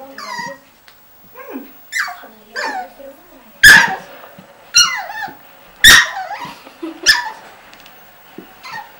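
A playful dog lets out a string of short yips and sharp barks mixed with squeaky whimpers, close and loud, spaced irregularly over a quiet background.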